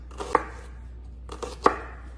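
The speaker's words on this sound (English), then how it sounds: "that's how you cut that onion up" A knife dicing an onion on a cutting board, two distinct sharp chops about a second apart over a quiet background, close and clear with no talking.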